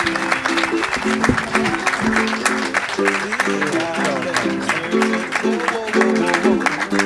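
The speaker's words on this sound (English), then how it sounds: "how about a huge round of applause for the great Lionel Sanders" An audience applauds a triathlete at a breakfast event in Kona, with a sustained round of clapping and cheering mixed with music and raised voices from start to finish.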